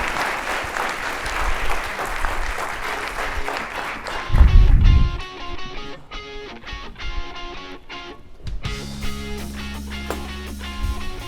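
An audience at an afternoon conference session breaks into sustained applause, a dense crowd of clapping that swells, then fades as music with a steady beat takes over.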